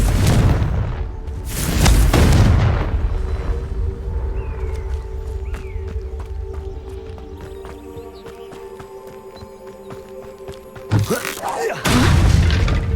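Fiery Confringo spell blasts go off in the Hogwarts Legacy video game: a heavy booming explosion opens, a softer stretch with tonal effects follows, then another loud burst near the end.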